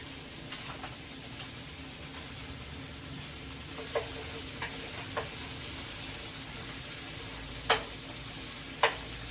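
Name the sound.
vegetables frying in a pan for pepper steak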